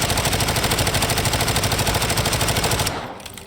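A submachine gun in Warzone 2.0 fires a sustained rapid burst, loud and continuous for about three seconds, then stops sharply with a brief tail of fading echoes.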